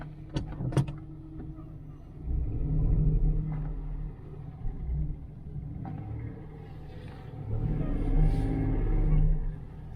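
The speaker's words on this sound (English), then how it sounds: "Let's take it for a test drive." An inexpensive used car from a dealer auction drives on a test drive, its engine rumbling inside the cabin with two swells of revving acceleration and a few clicks and knocks along the way.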